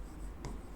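A pen or marker scratches out a single short stroke while a chemical name is written during a chemistry lesson. The faint, brief scrape sits over a low background hiss.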